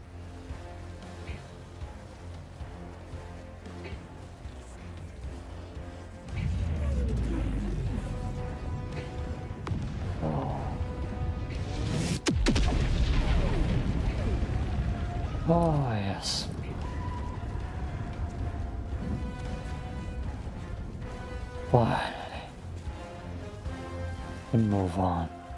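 Explosions and fireworks go off during an extraction in the video game Helldivers 2, with booms and crashing bursts over in-game rumble, and a voice talks through parts of it.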